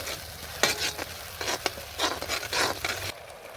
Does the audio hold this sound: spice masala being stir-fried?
yes